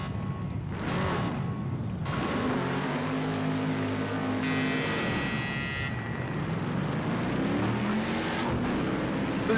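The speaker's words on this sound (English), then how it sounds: "this car is just a little sluggish off the line unless you want to just really hammer it and light the rear tires up" A Mercedes-Benz 300 SEL race car in Project Cars 2 at Silverstone Classic, engine revving loudly and continuously as it launches off the line, pitch rising and dropping with gear changes and a high whine in the middle.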